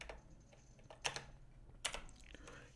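Light typing on a computer keyboard, a few sparse clicks and short bursts of keystrokes, faint and close against a quiet background.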